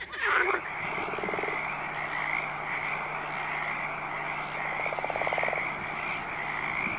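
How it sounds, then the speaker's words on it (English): Frogs croak in rhythmic, rattling pulses over a steady background chorus, moderately loud and unaccompanied by voices. "Frogs can live in both land and water."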